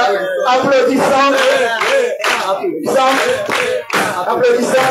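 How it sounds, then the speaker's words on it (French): A church congregation applauds during worship with loud rhythmic clapping blended with many voices shouting and singing together in close, continuous bursts. "Applaudissons."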